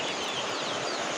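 Desi chicken chicks on a farm in Barisal peep and cheep in a busy, overlapping chorus, close by, over a constant hiss of heavy rain.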